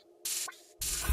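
Two bursts of bright, hissy shaker noise, each sustained for a moment, separated by a short gap, over a low tonal backdrop.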